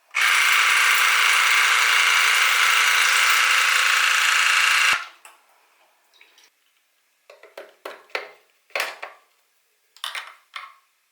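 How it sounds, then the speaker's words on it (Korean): A sonic electric toothbrush runs with a steady, loud buzz for about five seconds, then cuts off, followed by a series of scattered clicks and taps. "이렇게 음파 전동으로 돼서 칫솔보다 더 구석구석 꼼꼼하게 치아를 닦을 수 있어요."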